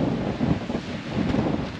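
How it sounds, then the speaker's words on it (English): Steady wind buffets the microphone with a low, rumbling roar that swells and eases slightly throughout, with no voices present. "A bit windy"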